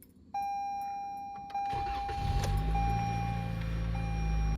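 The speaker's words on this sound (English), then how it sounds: "I'm getting ready to crank it on. We'll let it run for about 3 minutes" A car engine cranks after an oil check, preceded by a steady electronic chime, then catches and settles into a low, even idle.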